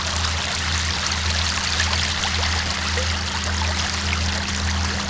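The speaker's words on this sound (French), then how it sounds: "Voilà l'eau qui coule lentement." Tidal seawater flowing slowly through a flooded passage at Saint-Malo during some of Europe's biggest tides, a steady continuous wash with no talking.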